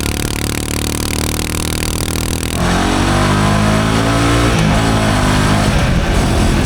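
A Royal Enfield Himalayan 450 motorcycle fitted with an Arrow exhaust sits close by, its engine droning loudly before revving up with rising, shifting tones for several seconds.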